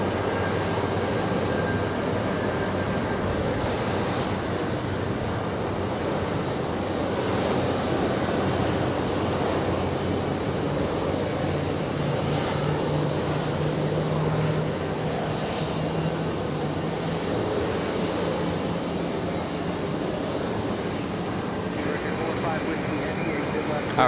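A passenger jet airliner at JFK airport gives off a steady, continuous engine roar that swells slightly midway. It holds at a moderate distance under broad background noise, with someone talking over it.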